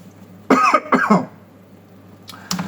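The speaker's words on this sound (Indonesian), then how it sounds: "mulai kambuh batuknya" A person coughs twice in quick, harsh bursts at close range, followed by a shorter cough or throat sound a moment later.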